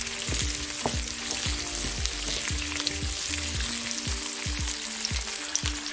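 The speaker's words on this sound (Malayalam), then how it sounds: "നമുക്ക് സവോള ഇട്ട് കൊടുക്കാം. എന്നിട്ട് ഒന്ന് ഇളക്കി കൊടുക്കാം." Onions fry with ginger and garlic in a pan for restaurant-style chilli chicken, a dense, close sizzle broken by frequent quick scrapes and knocks as a utensil stirs them through the oil.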